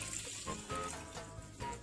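Fresh paneer is pressed in a cheesecloth, letting excess water trickle and drip out in a faint, steady wet patter with no talking.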